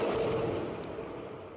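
Syrian artillery fire booms in the distance, a brief muffled rumbling blast fading over about a second and a half, heard alone.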